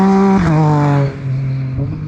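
Ginetta race cars at Anglesey circuit roar past close by, with loud engine notes dropping in pitch as they sweep through and then a second car accelerating away.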